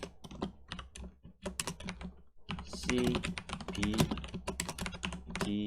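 Rapid typing on a computer keyboard while coding a list in Korean, with steady clusters of keystrokes throughout, close and clear, and a brief pause midway before the clicking resumes.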